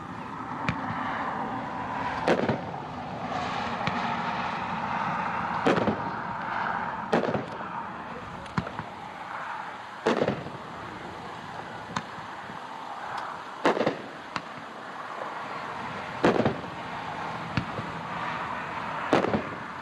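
Golden Rule, a 12-shot Hot Shot firework cake in the 350-gram class at a dealer demo show, fires a string of distant booming shots at irregular intervals over a steady outdoor background murmur.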